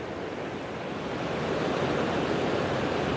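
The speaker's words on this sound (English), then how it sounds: "So you see that the water gushing downstream is nothing pretty." Rushing floodwater of the Hope River in Kingston, Jamaica, gushing downstream in the aftermath of Hurricane Melissa, heard as a steady, dense roar of water with no voices.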